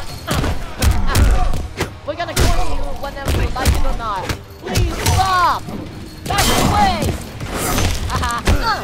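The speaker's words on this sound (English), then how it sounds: "We know that Kenshi is now exterminated by the bullets" Gunfire bursts and heavy thuds from a Mortal Kombat XL stage fatality, loud and close. The hits come in repeated clusters across the whole stretch, and excited voices shout over them.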